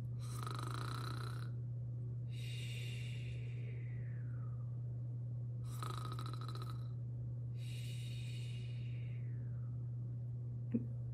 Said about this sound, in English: Have you ever heard someone snore when they sleep?